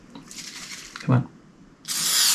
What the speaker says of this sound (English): Oh, that's spraying the wrong way.